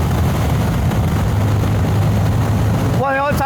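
A Suzuki DRZ motorcycle cruising on a Texas highway, with steady, loud engine and wind roar throughout, ending in a brief rising tonal sweep near the end.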